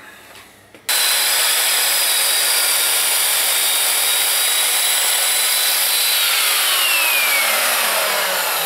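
An Evolution Fury 3-S saw slices through wooden skirting board: after a short quiet start the blade kicks in with a loud, steady high-pitched whine and cutting rasp that holds to the end.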